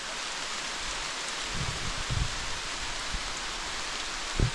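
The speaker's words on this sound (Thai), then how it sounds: "ฝนตกแล้ว" Steady rain falls through a forest, a broad continuous hiss of drops on leaves and ground with a few closer low thumps, heard alone without talk.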